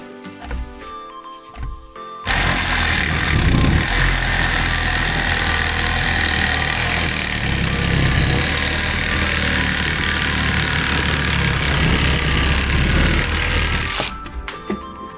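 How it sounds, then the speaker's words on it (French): A Parkside reciprocating saw set to pendulum mode starts up and cuts hard for about twelve seconds, a loud, rapid rattling buzz with steady churning strokes, then stops abruptly. "je me mets sur la mode pendulaire et je vous montre ce que ça fait."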